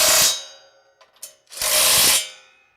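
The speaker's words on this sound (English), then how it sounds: "So once it's level there, all the way across, I'm going to tighten these bolts." A hand ratchet tightens bolts on a tractor accessory, giving two long bursts of rapid clicking separated by a few short metallic ticks, close and loud with no speech.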